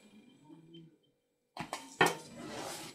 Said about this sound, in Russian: Ложку я уже убираю и буду вымешивать.